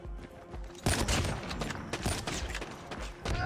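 Outlaw sniper rifle in COD Mobile: a heavy close shot followed by a dense stretch of thumping gunfire and impacts, with a further burst near the end and no voice.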